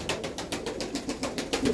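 A pigeon of the Mykolaiv breed coos in a repeated soft rhythm of low pulsing calls, close and fairly loud, with no talk over it.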